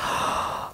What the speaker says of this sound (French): En prenant le temps de s'étirer, de bâiller.